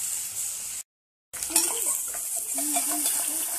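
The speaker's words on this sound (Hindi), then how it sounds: "जो स्प्रिंग वाला प्याज हमने लिए थे उसको डाल के भूनेंगे।" Chopped spring onions tossed and stirred into hot oil in a pan, with a steady close sizzle and scraping of a utensil, broken by a brief moment of silence.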